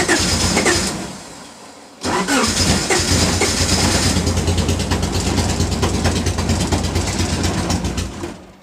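A race car engine, flooded with fuel, is bumped over: a brief loud burst, a near-silent gap of about a second, then a steady, loud, rough running roar that holds for several seconds.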